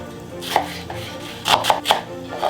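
A knife chops through an onion on a cutting board in a home kitchen, making a series of close, crisp thuds in an uneven rhythm with short pauses between strokes.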